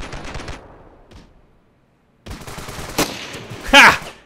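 Rifle shots in the snowy-mountain Ravenfield battle, a single sharp report near 2.3 s and another at 3 s, followed by a louder burst with a ringing whine; a voice talks briefly at the start.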